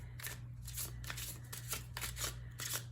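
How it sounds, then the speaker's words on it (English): A tarot deck is given an overhand shuffle, a quick run of soft papery slaps and riffles repeating in an even rhythm, close and fairly quiet, against a low steady hum. "So this is overhand shuffling."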